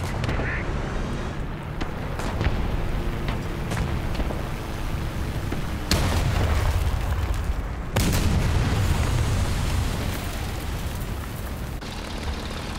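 In War Thunder, a US rank 2 tank fires its cannon several times, producing heavy booming blasts with rumbling aftershocks amid constant engine and battle noise, while a player talks at times.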